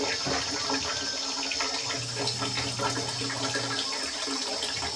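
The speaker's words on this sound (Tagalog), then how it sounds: "Pangatlong balde na po yan. Ganyan po lagi yung tubig." Tap water pours steadily into a bucket, a continuous loud rushing splash with a low rising tone as the bucket fills, no one speaking.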